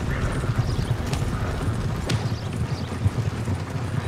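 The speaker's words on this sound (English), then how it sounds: "Four horses and a huge stagecoach." Four horses pulling a large stagecoach in the video game Red Dead Redemption 2, with a steady, dense clip-clop of hooves and a rumbling rolling undertone, continuous and fairly close, with no speech.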